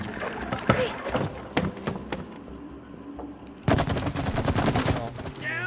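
Gunfire from shooting in the video game It Takes Two, sharp bursts scattered early then a dense rapid volley in the second half, with game sounds and voices talking underneath.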